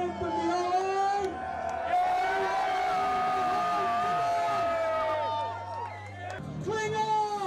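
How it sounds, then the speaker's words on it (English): A crowd cheering and whooping at a paintball event, loud and sustained with a mass of voices and shouts, easing briefly before swelling again. "can I have a big cheer from the line?"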